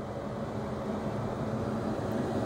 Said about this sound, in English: this is my kettle making this nice little hummy noise